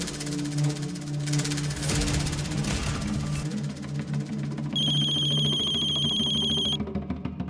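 An outgoing phone call rings through a handset in a steady repeating tone, with a low background hum underneath and no talking.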